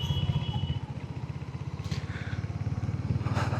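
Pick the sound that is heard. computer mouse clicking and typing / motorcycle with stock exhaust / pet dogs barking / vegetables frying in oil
motorcycle with stock exhaust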